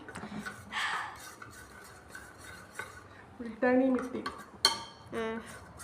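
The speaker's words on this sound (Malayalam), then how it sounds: "അതും മിൽക്കിലേക്ക് നമ്മൾ നല്ലപോലെ മിക്സ് ചെയ്ത് കൊടുക്കണം." A spoon stirs a multani mitti face pack into milk in a bowl, giving close scraping and clinking against the bowl in short uneven bursts, with a little voice in the background.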